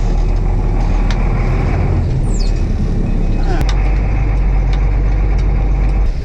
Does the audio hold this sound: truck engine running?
yes